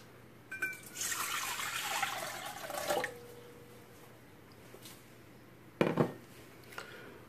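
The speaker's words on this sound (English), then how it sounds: "So I'm going to add the water." Water poured into a mixing bowl for homemade bread, a splashing pour lasting a couple of seconds followed by lighter clinks and drips, close and fairly quiet with no talking.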